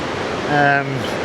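A 45-metre-tall, roughly 120-metre-wide waterfall crashing over basalt rock makes a continuous broadband roar, and a voice briefly sounds over it midway.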